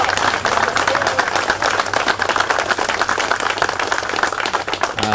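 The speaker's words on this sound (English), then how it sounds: "So can you all please welcome him with a hand clap," An audience at an outdoor street dedication ceremony claps continuously in dense, even applause; there are no voices.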